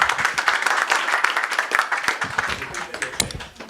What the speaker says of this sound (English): I think the entire panel need another round of applause